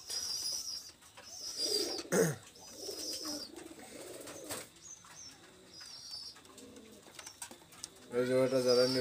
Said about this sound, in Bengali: কবুতর দুটো খুবই ছটফট করতেছে, এই জন্য আমি ভালোভাবে দেখাতে পারতেছি না